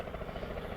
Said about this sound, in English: there's the helicopter Robinson